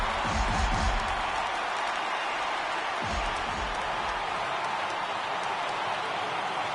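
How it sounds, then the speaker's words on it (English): Baseball stadium crowd at an ALCS playoff game rising for a full count, a broad sustained roar of cheering and clapping that holds steady throughout. "Crowd gets up for the 3-2."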